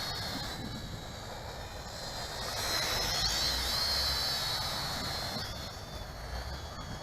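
XK X260 RC quadcopter flying outdoors in strong morning wind, a faint high motor whine rising and falling as it passes, mixed with wind rumble and no talk.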